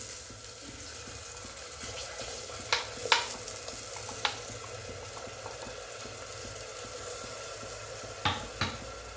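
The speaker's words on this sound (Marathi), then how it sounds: "परतून घेऊया मसाला मसाला आपला परतून झालेला आहे" A masala paste of coconut, garlic and ginger sautés in a pan for chavali bhaji, a low steady sizzle broken by scattered scraping stirs and a few sharper spoon knocks, with no voices.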